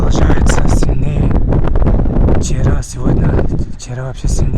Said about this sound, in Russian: Ветер продолжается, сильнее.